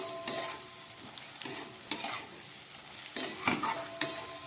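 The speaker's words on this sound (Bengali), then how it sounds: "দেখুন মশলাটা কত সুন্দর ভাজা হয়ে গেছে, ঢেঁড়সটাও একদম নরম হয়ে গেছে" Masala okra fries in a pan while being stirred, with soft sizzling under repeated scraping strokes of a spatula.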